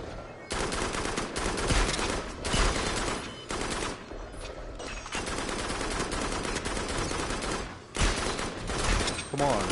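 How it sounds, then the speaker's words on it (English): Gunfire in the VR shooter Farpoint, including sniper rifle shots: repeated loud sharp blasts and bursts over a busy, noisy combat backdrop, with a voice talking intermittently beneath. "I'm using my sniper on it."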